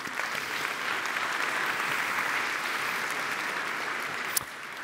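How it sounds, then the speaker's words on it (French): Steady, dense audience applause fills a conference hall at a colloquium of the Institut Iliade, holding even for about five seconds with one sharp click near the end. "Sous vos applaudissements."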